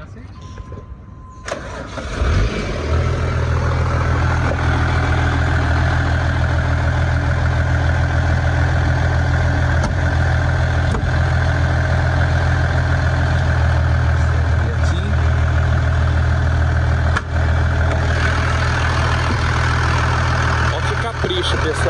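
A Chevrolet Silverado pickup engine starts and settles into a steady, loud idle close by, running evenly for about twenty seconds with a few light clicks over the drone.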